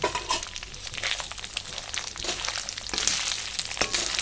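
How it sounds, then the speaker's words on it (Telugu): Chicken pieces sizzle and crackle in a hot pan while frying for chicken pickle, a dense continuous hiss with scattered sharper pops, close and moderately loud. "ఈ చికెన్ ఫ్రై అవుతుండగా"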